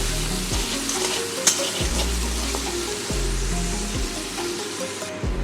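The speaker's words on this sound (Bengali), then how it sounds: "হাফ চামচ দেবো আদা বাটা, হাফ চামচ দেবো রসুন বাটা। সমস্ত মশলাকে আমি ভালো করে এর সঙ্গে মিশিয়ে নেব" Ginger and garlic paste with spices fries in a pan, making a continuous close sizzle under a series of repeated stirring scrapes, with no voices.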